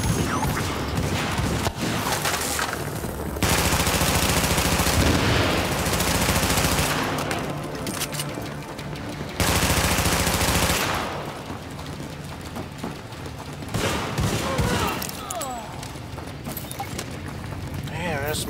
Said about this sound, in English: Man, there's some good shooting there.